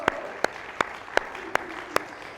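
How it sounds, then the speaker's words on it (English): Sparse, slow clapping from a small audience at an art conversation event, about six crisp claps at an even rhythm over a faint murmur. "Now come on, I want to hear a few more claps."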